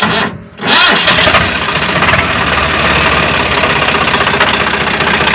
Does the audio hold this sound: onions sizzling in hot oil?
no